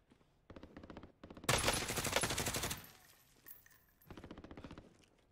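Gunfire crackles in a Call of Duty match, with bursts of rapid automatic fire, one long loud volley in the middle and quieter rattling runs before and after it.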